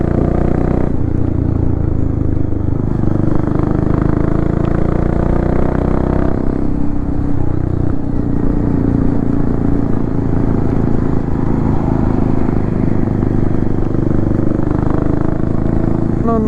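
Royal Enfield GT 650 motorcycle exhaust note heard while riding on the way to Lonavala, a steady loud engine drone with continuous low rumble and road noise throughout, no speech in the clip.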